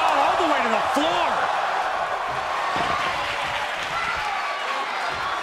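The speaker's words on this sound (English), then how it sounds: "This crowd is thunderous right now." A thunderous arena crowd roars and cheers throughout a WWE 2K24 tables match, a loud continuous wash of noise with a voice faintly audible beneath it.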